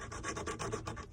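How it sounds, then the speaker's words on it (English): A half round file scrapes with its flat side along the edge of a quarter coin ring in quick, faint rasping strokes, about ten short rubs in a second, close up with no voices. "So I use a half round file, use the flat side, and I'm going to go all the way around"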